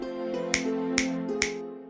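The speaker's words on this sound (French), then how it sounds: "D'un claquement de doigts" A cartoon genie snaps his fingers, three or four crisp snaps about half a second apart, close and bright over a steady sustained musical tone.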